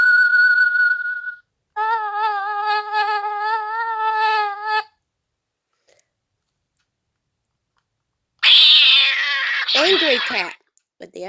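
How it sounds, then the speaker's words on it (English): An angry cat sound effect plays from a sound effects app on a phone: a drawn-out tonal meow, a pause, then a harsh yowling caterwaul. A brief short cry comes first. "Angry Cat."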